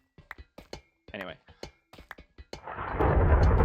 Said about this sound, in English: Holy thunderstorm.